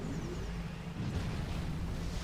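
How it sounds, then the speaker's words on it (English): A low, continuous rumbling blast from a Supreme Commander game battle swells and churns under steady game noise, loud and sustained with no voices. "That's the explosion sound I was looking for."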